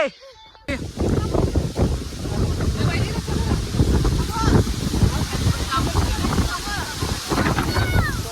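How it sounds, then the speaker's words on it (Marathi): Strong wind buffets the microphone in heavy gusts, roaring and rumbling, with voices of people eating outdoors faintly mixed in. "खतरनाक असं वारं सुटलंय"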